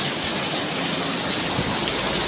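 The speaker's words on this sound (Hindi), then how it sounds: "बारिश नहीं हुई और अब हुई है तो इतनी ज़ोर से हो रही है" Heavy rain pouring down hard during a monsoon downpour at home, a dense, continuous hiss that is loud and close and stays even throughout, with no voices.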